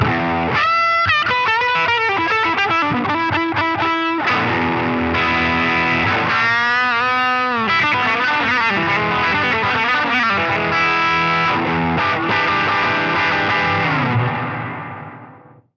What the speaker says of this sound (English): This is the hall reverb.